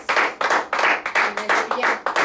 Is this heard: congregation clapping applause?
yes